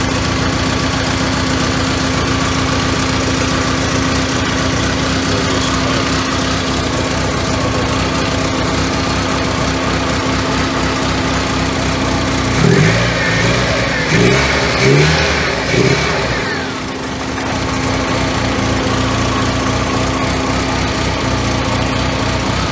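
A 1985 Merkur XR4Ti engine idles roughly with a steady, continuous drone at close range, briefly disturbed partway through by knocking and a short dip before settling back to the same even hum.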